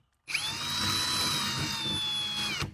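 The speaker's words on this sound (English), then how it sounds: "go ahead and drill your first hole" A power drill boring a hole for a DIY night fishing light: a loud, close, steady high whine that starts abruptly, holds for about two seconds, then cuts off.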